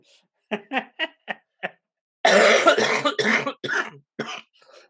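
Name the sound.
coughing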